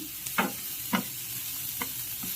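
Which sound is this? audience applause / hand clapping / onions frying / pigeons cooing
onions frying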